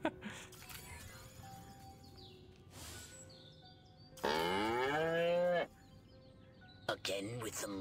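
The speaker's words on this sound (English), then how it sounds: "Again with the moo?" Cows moo in the Destroy All Humans! remake, with one long, loud, drawn-out lowing call at the centre and shorter moos around it over a quiet game ambience, with speech in places.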